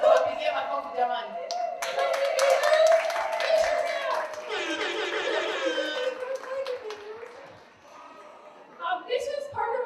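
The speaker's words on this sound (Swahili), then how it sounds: "tuwapigie makofi jamani" Applause breaks out at an International Women's Day celebration as blanket makers are honored, a patter of clapping hands mixed with crowd chatter and someone talking over it.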